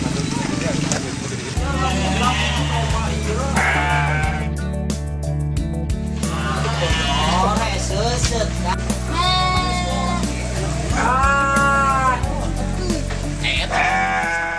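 Garut sheep on a farm in Sukabumi bleat repeatedly, wavering cries rising over a steady low hum while people talk throughout.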